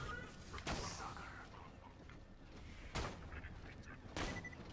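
Gunfire from the Chere Amie weapon in Borderlands 2 comes as three sharp, loud bursts spaced a second or two apart, with quieter game noise and scattered effects filling the gaps.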